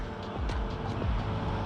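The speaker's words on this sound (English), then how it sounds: "Waiting on traffic." Road traffic passes beside a roadway where an RC car waits, a steady broadband rumble and hiss of vehicles going by at moderate distance.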